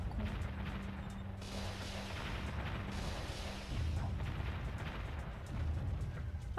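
Mortar fire in the real-time strategy game Warzone 2100, a dense, continuous wash of rumbling blasts and crashes at steady loudness, with no talking.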